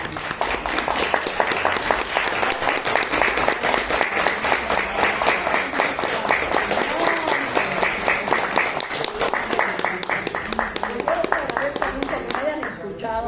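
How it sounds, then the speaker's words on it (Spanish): Sustained audience applause for a guest speaker at a Spanish-language talk, dense steady clapping lasting throughout with crowd voices mixed in and fading slightly at the end. "les quiero pedir por favor un fuerte aplauso para nuestra invitada"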